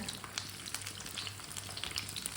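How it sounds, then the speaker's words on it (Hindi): A breakfast dish fries in a pan with a dense, continuous crackling sizzle, turned from side to side, steady and close but fairly soft. "अब दोनों साइडों से उल्टाते पलटाते पका लेते हैं"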